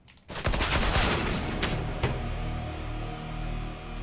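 Bursts of gunfire in a CS:GO match: a loud rattle of rapid shots kicks in after a brief quiet start, with sharp cracks standing out near the middle and end over a sustained rumbling tail.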